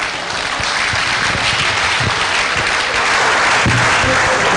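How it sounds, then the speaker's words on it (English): An audience at an inaugural lecture gives a loud, sustained round of applause, a thick wash of many hands clapping continuously with no pause. "Please, another round of applause for our inaugural"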